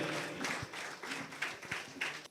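An audience at a Kolkata Sikh women's organisation's anniversary ceremony claps in short uneven bursts, fairly faint and distant.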